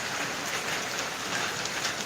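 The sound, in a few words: rain falling on road in Kerala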